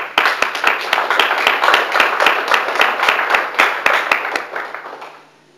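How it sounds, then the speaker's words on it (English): Applause from an audience at an atheist community event, a dense run of close hand claps lasting several seconds before fading out at the end. "they deserve a round of applause"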